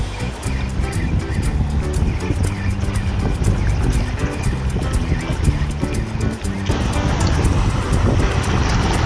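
Loud, steady wind roaring across the microphone while camping and fishing in Calatagan, with a constant buffeting rumble and hiss, no pauses, lasting throughout.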